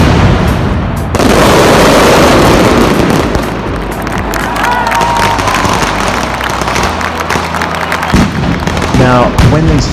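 Mascletà firecracker display during Las Fallas, heard from roughly 50 to 70 meters away: a dense, loud barrage of rapid bangs and crackles with deep booms rolling underneath, continuous throughout with crowd noise mixed in.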